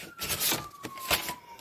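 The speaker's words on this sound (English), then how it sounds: "Excuse the sirens." A distant siren wails with a slowly falling tone, heard faintly through steady background city noise inside an art studio, with no talking.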